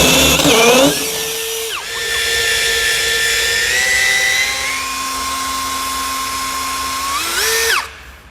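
A loud cordless three-mode hammer drill in hammer-drill mode, drilling concrete, whines at high speed in long steady bursts, pitch shifting as it revs up and winds down, close and continuous.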